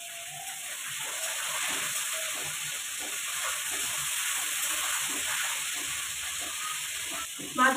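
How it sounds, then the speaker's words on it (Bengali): Baim fish fry in hot oil, a fairly quiet, even hiss of bubbling oil holding steady, with one short knock right at the end. "মাছগুলো এবার ভেজে নেব।"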